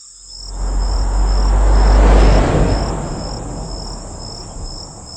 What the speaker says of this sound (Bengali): মাঝে মাঝে ঝিঝি পোকার ডাক শোনা যাচ্ছে।